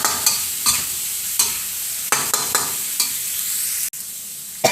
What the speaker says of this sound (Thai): ผัดไปเรื่อย ๆ จนปลาหมึกของเราสุกนะคะ